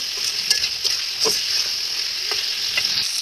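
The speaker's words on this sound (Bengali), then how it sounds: "এখন আমি ভালো করে এগুলো কষিয়ে নেব" Fried jackfruit and potato sizzling steadily in a spiced pan, with a few scraping stirs of a spatula cutting through the constant crackle, close and moderately loud.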